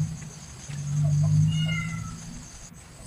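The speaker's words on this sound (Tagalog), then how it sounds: "Yung pusa ko si Sola, nagpumiyaw-miyaw na dun." A pet cat named Sola meows in a drawn-out, wavering cry that rises and falls, close by, against a faint steady background hum with no talking.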